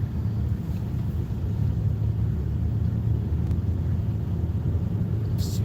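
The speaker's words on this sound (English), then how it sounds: "I did not know this traffic was gonna be like this." Low steady engine rumble of a car moving in road traffic, heard from inside the vehicle as a continuous dull drone with no distinct events, moderately loud and close, without talking.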